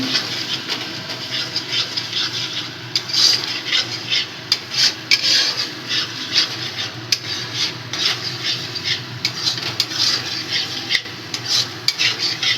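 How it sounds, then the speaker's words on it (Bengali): A spatula stirs and scrapes masala for a yogurt-based katla fish curry around a kadai, a steady, close, rhythmic scraping and rubbing that runs the whole time with no talking. "নাড়তে হবে যেন নিচে যেন কড়াইতে না লেগে যায়"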